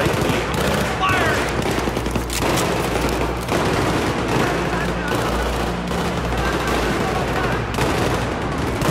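Battlefield 3 combat fills the scene with continuous, loud gunfire: overlapping bursts of automatic fire and heavier booms rolling without pause, close and dense, with a voice talking over the shooting.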